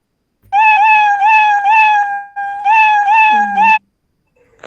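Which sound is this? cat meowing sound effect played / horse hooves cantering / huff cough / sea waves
cat meowing sound effect played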